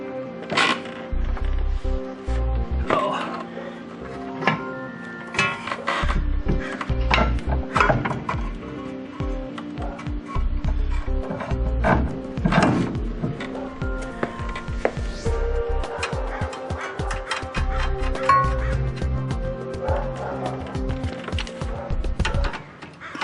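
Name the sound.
reinstalling control arm bolt on 97 Honda Civic axle job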